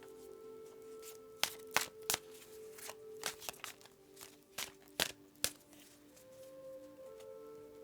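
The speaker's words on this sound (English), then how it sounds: "I am going to go ahead and give the deck a good shuffle for you" Tarot cards riffle and snap in quick bursts, several shuffles with short pauses between them, close and fairly quiet.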